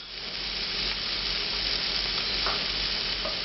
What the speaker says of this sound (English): Okay, these have been sauteing for a couple of minutes.